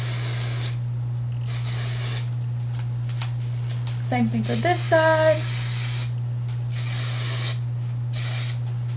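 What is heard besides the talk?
hairspray being sprayed on hair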